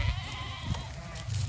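Goats and sheep bleat in a farm paddock, several calls overlapping close by over steady outdoor background noise, with no talk.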